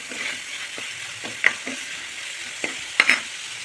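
Onions and tomatoes sautéing in a pan with salt for a peanut kurma, a soft steady sizzle under occasional sharp clicks and scrapes of a stirring spoon.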